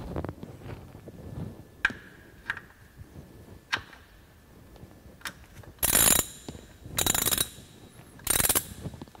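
A ratchet tightens the fill plug on the front differential of a 2001 Ford F150, sounding as a few sparse clicks followed by three louder bursts of rapid ratcheting, close up with no talk.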